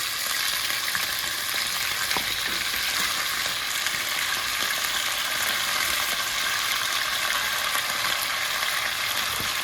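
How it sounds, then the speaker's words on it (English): Meat browns in a hot pot for a meat sauce, giving a steady close sizzle and frying crackle throughout, with occasional faint stirring ticks and no talk. "let's stick all your meat as soon as it gets a little warm in the pot. And we're going to let it brown on one side"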